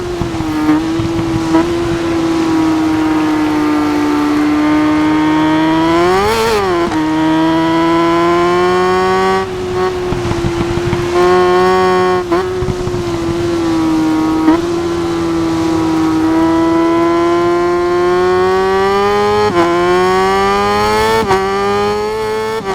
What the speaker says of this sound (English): I might just let the bike sounds work for themselves